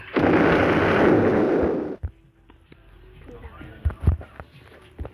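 A loud, rumbling Roblox explosion roars for about two seconds and cuts off abruptly, followed by quieter clicks and scattered effects.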